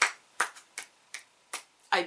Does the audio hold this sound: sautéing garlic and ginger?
no